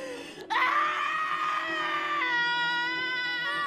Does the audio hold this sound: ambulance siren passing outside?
no